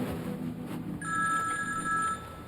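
A mobile phone rings when called, a steady electronic ringtone tone starting about a second in and continuing over low background murmur.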